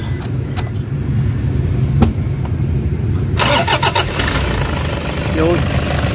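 A Toyota HiAce van engine cranks and catches, settling into a steady idle with a rough, noisy rocker area, heard close up after a quiet stretch of low background rumble.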